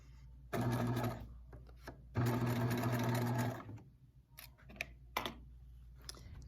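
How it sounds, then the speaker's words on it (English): Sewing machine stitching a 5/8-inch seam on lounge pants, running in two steady bursts of a couple of seconds each, close and fairly loud, with pauses and small handling clicks between. "So we're going to sew this big U here."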